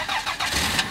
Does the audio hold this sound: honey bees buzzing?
no